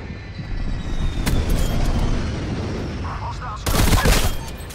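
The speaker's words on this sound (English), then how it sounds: "I'm gonna call in the strafe run right over here." Strafe run gunfire in Black Ops Cold War: dense, rolling bursts of automatic fire and impacts keep going throughout, with a sharp crack partway through and a louder barrage near the end.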